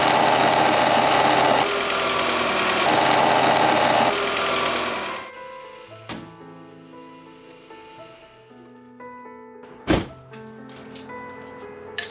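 A Volkswagen MK4 Golf engine runs after repairs, a loud steady drone for several seconds that then cuts out, leaving quieter clicks and a sharp knock as it settles.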